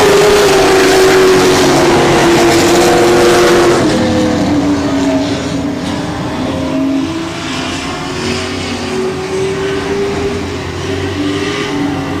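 Race cars roar around the I-37 Speedway oval track, a loud sustained engine drone that sweeps down in pitch as the pack passes, then settles into a steady lower roar.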